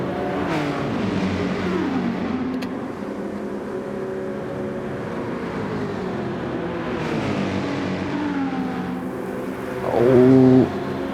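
Race car engines from Gran Turismo 7 in a BTCC replica league race, including an AMG and a Volkswagen, drone steadily with shifting pitch as cars pass, rising to a louder, sharper rev near the end.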